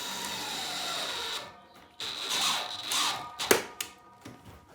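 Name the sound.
cordless drill driving TRV tail driver at low speed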